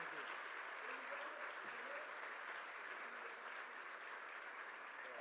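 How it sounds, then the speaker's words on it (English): An audience at a World Trade Week kickoff breakfast in Los Angeles applauds, a steady even wash of clapping that holds for several seconds, moderately distant and fairly faint. "Let's give them a round of applause."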